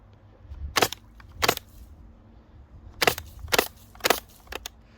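A Spyra water gun fires, giving sharp, loud bursts in two clusters: two shots, a pause, then four more in quick succession, close up over a quiet background.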